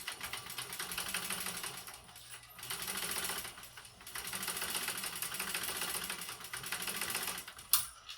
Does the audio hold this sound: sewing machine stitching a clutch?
yes